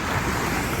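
Surf on the warm water at South Beach, Miami, a loud, steady rush of waves mixed with wind buffeting the microphone, heard alone for a brief moment.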